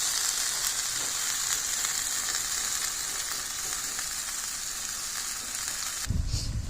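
Chicken wings fry in a cast iron pan outdoors in the Belize jungle, giving a steady, dense sizzle that holds evenly for about six seconds before a short low thump.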